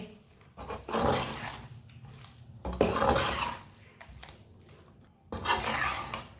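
A spoon or ladle stirs and mixes tinda curry in a metal pot, with three loud bursts of scraping and clanking separated by quieter pauses, and no talking.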